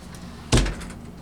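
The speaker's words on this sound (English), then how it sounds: "Over here is a closet with 2 sliding glass doors that are mirrored." A mirrored sliding glass closet door in a hotel room gives a single sharp thud-like knock as it slides and stops, followed by a brief fading rumble in a quiet room.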